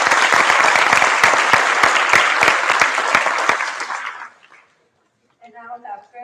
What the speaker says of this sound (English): I really want to give a round of applause to all of those students who worked so hard on that